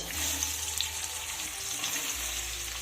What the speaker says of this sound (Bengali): এবার দিয়ে দেব কুচিয়ে রাখা পেঁয়াজ